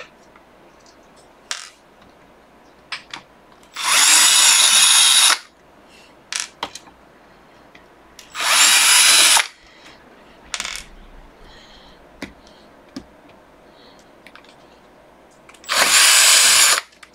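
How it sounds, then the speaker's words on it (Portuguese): A Bosch cordless screwdriver runs in several loud, steady whirring bursts of about a second each, with separate clicks and small knocks in the pauses between them. "Ó, é uma parafusadeira da Bosch."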